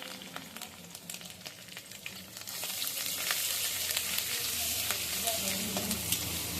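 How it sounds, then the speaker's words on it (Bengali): Garlic and ginger frying with shredded coconut in a pan, a close, continuous sizzle with repeated scraping stirs that grows louder and denser midway. "রসুন আদাও একটু ভেজে নিচ্ছি কাঁচা ভাবটা যাতে চলে যায়"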